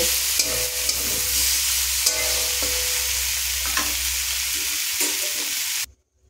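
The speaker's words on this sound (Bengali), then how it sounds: "এরপর ফুলকপি আলুর সাথে মশলাটা ভালো করে নাড়াচাড়া করে মাখিয়ে নেব" Cauliflower and potato pieces stirred with spices in a pan for an egg curry, a steady sizzle with repeated spoon scrapes and clinks close by, ending abruptly in silence.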